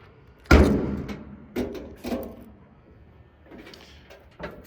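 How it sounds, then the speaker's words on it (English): The trunk lid of a 1972 Chevrolet Chevelle is popped open, giving a sharp mechanical thunk followed by a few lighter clunks and rattles, close by in a quiet setting. "Let me grab the keys and I'm going to pop the trunk."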